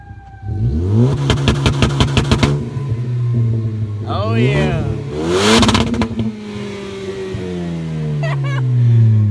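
A Ford ST engine with a homemade turbo intake revs up repeatedly to about 4,000 RPM, rising and falling in pitch, loud and close, with a brief voice over it.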